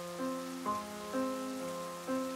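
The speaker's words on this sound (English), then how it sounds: "He's just standing in the rain" Rain falling in The Sims 4, a steady soft patter of rain heard alone beneath repeating sustained game music tones.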